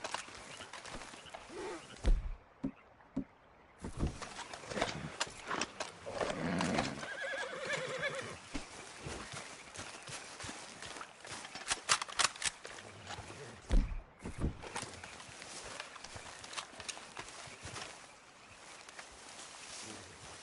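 Horse whinnies and hoof clip-clops from the Red Dead Redemption 2 video game, a mix of neighing and footfalls with a busy game soundscape around them, no speech over it.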